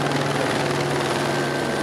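A helicopter flies overhead at a NASA-related site where police cars and news crews wait, its rotor chop a steady, loud, continuous drone filling the whole stretch with no voices.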